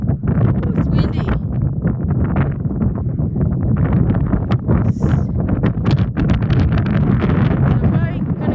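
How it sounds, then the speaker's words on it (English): Strong gusting wind ahead of a snowstorm buffets the microphone in loud, uneven bursts of rough roaring noise that continue throughout. "Oh, it's windy."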